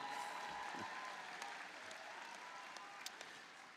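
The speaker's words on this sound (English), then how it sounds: "You can clap again." Commencement audience at a university ceremony applauding, a steady wash of clapping that stays fairly faint and distant, with a few sharper claps standing out near the end.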